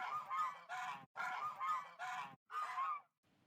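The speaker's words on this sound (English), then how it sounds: "just to have like this gaggle of geese, I believe it's called, just hanging about at a service station" A gaggle of geese hangs about a service station and honks loudly and nearby in several overlapping bursts. The calls come in quick succession and then break off into a fainter call at the end.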